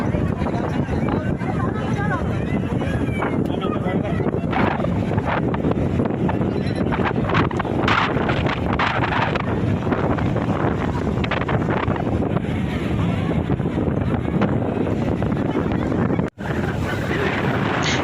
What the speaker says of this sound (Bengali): হাওয়া প্রচুর চলছিল